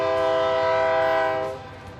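A BNSF train horn blares loud and close in one sustained tonal blast, cutting off abruptly near the end with rumbling rail noise lingering after, at an outdoor groundbreaking event in Frisco, Texas.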